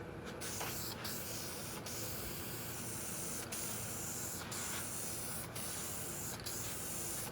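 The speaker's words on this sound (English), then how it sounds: "let's get the aerosol primer on there now" Duplicolor sandable aerosol primer mists onto a 1973 Toyota Celica under restoration, a steady close hiss of spray running continuously with several brief pauses between passes.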